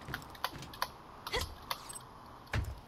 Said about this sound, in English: apparently you can hear every click of my keyboard